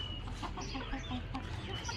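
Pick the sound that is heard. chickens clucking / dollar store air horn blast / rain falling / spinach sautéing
chickens clucking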